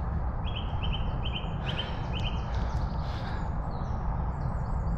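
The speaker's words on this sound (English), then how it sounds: "Lovely bird song in the background." Birdsong drifts faintly from the countryside along a North Downs trackway in Surrey, a few short repeated chirps and trills heard far off over steady wind and walking noise, with no talk.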